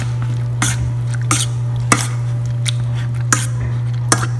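Soft squishing, pressing sounds repeat every second or so over a steady low hum, as cooked red lentils are mashed in a pot.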